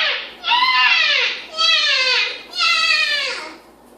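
A voice imitates a crying baby with three long, falling wails in a steady rhythm, loud and close, with brief gaps between them.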